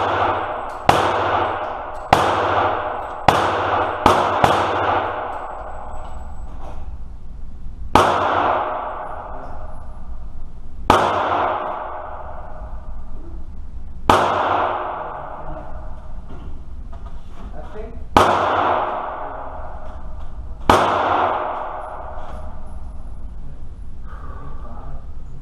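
Rifle shots from a scoped 22 Magnum Rossi on a range, nine sharp cracks with trailing echoes, the first five bunched quickly and the rest spaced several seconds apart, with no voices in between.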